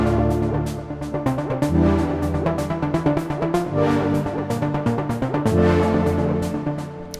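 Offbeat white noise hits in a melodic techno break, run through echo and autopan so repeats smear and swirl in a dense, steady, train-like wash over a sustained synth pad.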